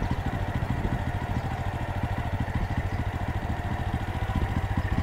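A motorcycle engine running while the bike is stuck on a rough offbeat road, a close, loud, steady low throb with rhythmic clattering pulses and no talking.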